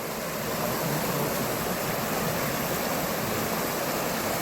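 River flowing at the Ford of Bruinen in New Zealand, a steady broadband rush of fast water, close and constant with no other sounds.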